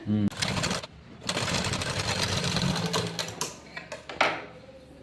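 A sewing machine runs in fast rattling bursts while stitching a blouse, its close mechanical chatter stopping and starting a few times as someone talks over it.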